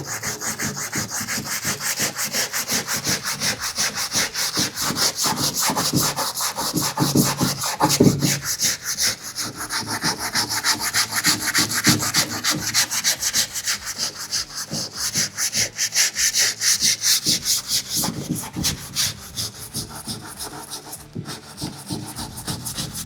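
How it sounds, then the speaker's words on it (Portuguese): Flexible sandpaper rubbed by hand over a carved wooden piece during restoration, a steady close scratchy back-and-forth rasp running continuously with even rhythm and no pauses. "Então a gente vai usar essa lixa aqui por cima para poder fazer esse movimento."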